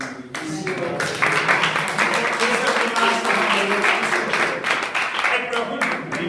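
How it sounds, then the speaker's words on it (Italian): Steady, dense applause from a crowd fills the whole stretch, many hands clapping at once without a break. "vorrei fare un applauso particolare alla Grazia"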